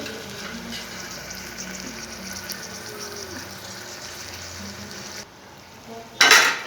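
Rice with mint and fenugreek leaves frying in oil in a pan, with a spoon stirring now and then: a low continuous sizzle with soft scraping, then a brief quiet spell and a sharp bright clatter near the end.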